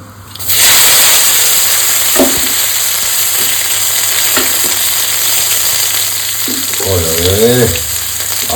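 Whole spices including panch phoron frying in hot oil in a pan for a banana-flower dish, a steady close sizzle and hiss throughout with occasional stirring scrapes, a louder bubbling burst near the end.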